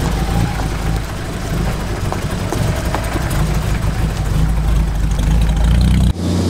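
A Mercedes G-Class 280 fitted with a Cherokee engine runs with a steady, dense drone, rumbling loud and close through the cabin for about six seconds before cutting off abruptly, with no clear talk.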